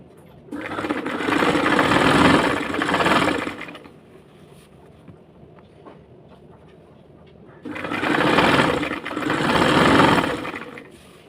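Sewing machine stitching along the folded edge of a saree, running in two loud, steady bursts of about three seconds each with a quieter pause between them.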